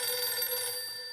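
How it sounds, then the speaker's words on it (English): An electronic telephone rings in the Battlefield 6 video game, a steady bright tone repeating at close range for about a second with no voices over it. "Don't pick up that phone."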